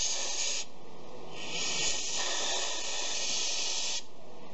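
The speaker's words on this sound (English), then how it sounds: "I am just going to kind of fill this thing up with carb cleaner" Carb cleaner sprays in loud hissing bursts into the carburetor of a 2006 Honda Metropolitan/Ruckus scooter, with two long sprays separated by short pauses and no voices.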